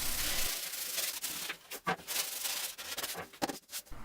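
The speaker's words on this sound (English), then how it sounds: "After I finished cutting, I sanded it everywhere." Wood being sanded by hand for a DIY night lamp, steady rubbing strokes at close range that break into shorter scratchy passes, with no voices.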